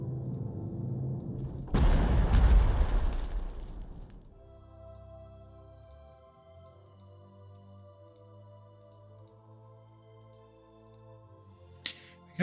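Artillery fire in the Panzer Corps 2 wargame, one loud broad blast with a rushing roar lasting a couple of seconds, then fading into a quiet tonal game backdrop with a faint sharp click near the end.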